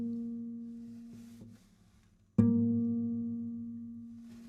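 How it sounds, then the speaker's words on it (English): A string sounding its halfway-point harmonic, a finger hovering at the midpoint to mute the fundamental: a steady, pure tone fades out, then a fresh pluck rings out clearly and decays slowly, with no voices. "you can actually mute the fundamental note and just hear the overtone at that point."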